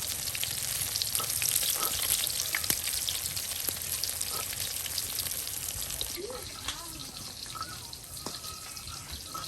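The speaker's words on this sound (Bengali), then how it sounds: "একদম ভেজে একদম মচমচে বড়া তৈরি করা হবে" Fritters made from fish oil deep frying in hot oil in a rural kitchen, a dense continuous crackling sizzle with scattered pops and a few stirring clicks, moderately close, without talk.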